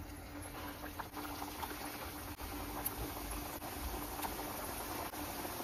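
Pieces of wheat dough fry in hot ghee in a kadhai, giving a steady, faint bubbling sizzle that carries on evenly throughout with a few small pops and crackles.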